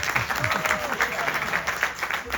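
Audience clapping for Pandit Niraj at a Ramayan in the Park gathering, a brief burst of applause heard under a voice talking over it.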